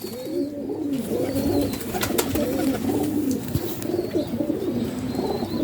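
Pigeons in a home loft coo repeatedly in low, throaty, rolling calls, several birds overlapping close by, with occasional wing flutters and small knocks in the background.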